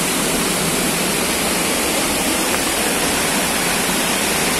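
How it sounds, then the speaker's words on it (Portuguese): Waterfall at Cantinho do Céu in Maranguape, Ceará, producing a constant, loud, broadband rushing roar of falling water, close and unbroken with no voices. "Cachoeira aqui do cantinho do céu."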